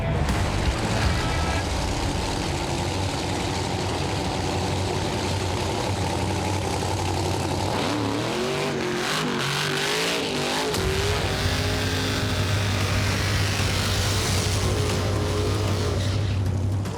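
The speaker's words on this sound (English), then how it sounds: "This is what drag racing is all about." Several drag racing cars roar loudly and steadily, with a brief dip and shifting engine tones midway before the heavy rumble returns at full volume.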